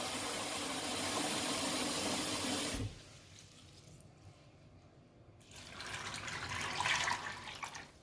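Clean water poured into a pot of groundnuts, a loud rushing pour that stops abruptly, followed by quieter trickling and a second splashing pour, close by.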